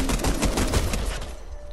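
A brief, loud burst of rapid gunfire in a video game rattles off close up and then fades out within about a second.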